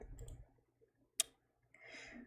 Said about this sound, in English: That was my phone clicking on the table.